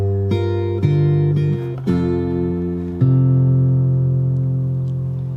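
Fingerstyle acoustic guitar in drop D tuning plays one bar of a song, with a deep open bass under plucked chord tones, about five ringing attacks that sustain and decay close by, with no voices.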